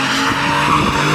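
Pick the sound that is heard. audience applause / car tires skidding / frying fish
car tires skidding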